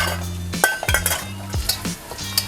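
Garlic and onion toasting in a pan for Chinese-style bagoong fried rice, with a metal utensil stirring and clinking against the pan at irregular moments over a steady sizzle, loud and close, no talking.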